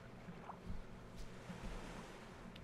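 Wind and waves in the survival game Stranded Deep, a soft continuous rush of surf and breeze with faint gusts, quiet and without speech.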